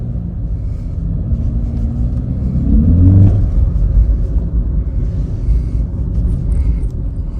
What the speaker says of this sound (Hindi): थोड़ा एक्सीलेटर दीजिएगा ताकि आप थोड़ा तेज़ी से आगे जाएं